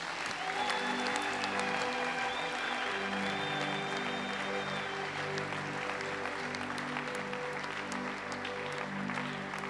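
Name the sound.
congregation applauding in church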